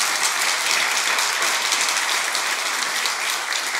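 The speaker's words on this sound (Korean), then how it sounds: "다시 풀림팁에 다시 한번 박수 한번" A church congregation applauds its worship team during a Sunday service. The clapping is steady, dense and fills the room, with no talking over it.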